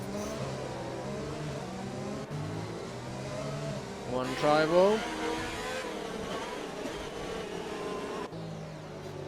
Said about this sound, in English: listen to that Honda grunting engine